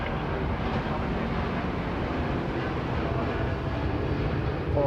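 A Japanese airliner rotates slowly on takeoff at Sydney Airport, its jet engines producing a loud, steady, broadband roar that holds unbroken from start to finish.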